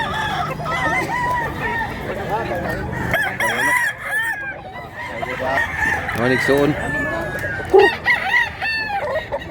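Several large three-year-old roosters crow repeatedly in a busy fowl market, their calls overlapping with clucking and someone talking nearby amid background crowd babble.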